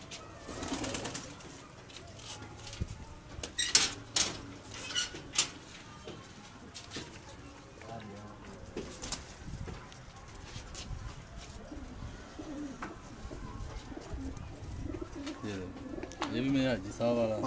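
Pigeons coo on a rooftop loft in Gujranwala as new birds are released, soft repeated coos and wing flutters under ongoing male conversation and background noise.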